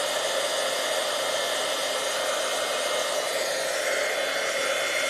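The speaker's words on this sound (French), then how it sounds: "le pistolet chauffant, ben, il déplace de l'air" A heat gun blows a steady, loud rush of hot air, used for heat embossing leaves; the broadband hiss runs continuously without a break and with no voices.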